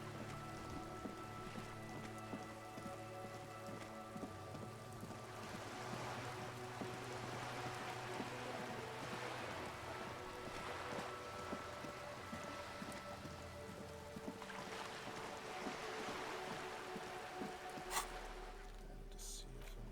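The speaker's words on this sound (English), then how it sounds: "It's not snowing anymore. It's just raining." Constant rain pattering on surfaces in the video game Disco Elysium, a soft hiss that fills the background, with faint tonal hum and an occasional sharp click.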